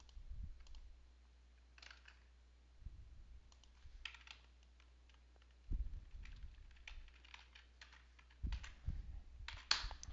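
Someone types on a computer keyboard in quiet, irregular bursts of soft clicks with brief pauses and occasional heavier key thumps, close and faint, with no voices.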